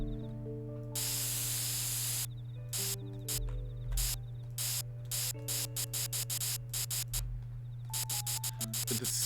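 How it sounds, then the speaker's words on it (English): A hissing spray sound effect from The Sims 3 building mode repeats in bursts, some long and some short and rapid, over a steady electronic music bed, loud and close. "The spray noise is therapeutic to some people and absolutely infuriating to others."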